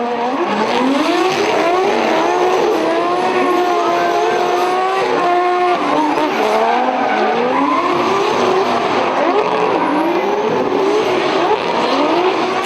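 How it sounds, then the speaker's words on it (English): Competition drift cars, an RB25-powered car against a 2JZ-powered car and an E46 BMW, scream past at ASB Baypark in Tauranga with loud, continuous high revving and rising and falling engine pitch, with no talk. "RB25 versus 2JZ, with Nico Reed putting on a strong lead run against the NAC Insurance E46 BMW"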